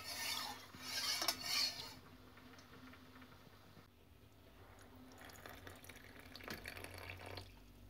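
Sugar being stirred into water in compote jars for sour cherry compote, with quiet scraping and clinking of a spoon and splashing water, louder at first and then settling into soft, faint stirring sounds.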